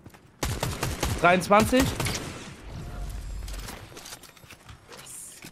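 Rapid bursts of gunfire from a Valorant match, several sharp shots clustered early then sparser, mixed under German voices talking over the game.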